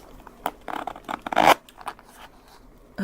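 Zipper on Mayla Classic Reika Kashiba suede shoes with filigree design and front buttons, pulled in a few quick raspy bursts up close, then quiet.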